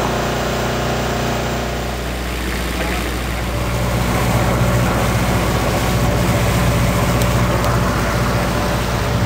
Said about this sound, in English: Full throttle, starboard engine.